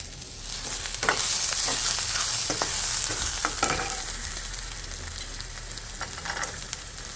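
Onion frying in a pan with coconut and roasted chana dal for a spicy village-style mutton curry, a steady dense sizzle with repeated sharp stirring scrapes and clicks throughout, close and fairly loud, no voices.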